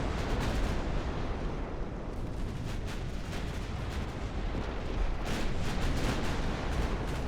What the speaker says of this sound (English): Secondary batteries, open fire on that already damaged vessel.